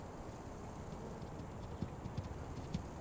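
Horse hooves clip-clop at a steady trot, quiet and drawing away, with a few sharper knocks standing out over a constant low rumble of background noise.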